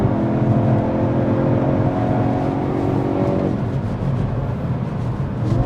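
A Hyundai Kona N SUV powers out of a corner on a race track, its engine note loud and sustained with a rising harmonic whine that cuts off midway, followed by steady road and wind roar.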